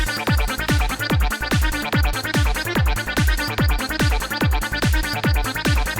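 A synth melody over an A Phrygian bassline in Ableton, a dense electronic loop with a pulsing kick-and-bass pattern repeating at a quick steady tempo, bright layered synth tones on top and no voices.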